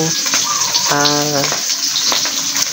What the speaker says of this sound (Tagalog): Nagpuprito tayo ng isda.